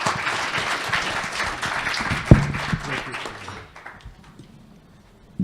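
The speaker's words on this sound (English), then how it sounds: "just please a round of applause for them" An audience at a business forum applauds the panelists with dense clapping that thins out after a few seconds, leaving a few isolated claps and a sharp knock near the middle.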